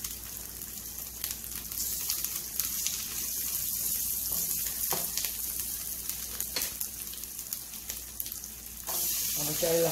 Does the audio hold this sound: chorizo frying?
yes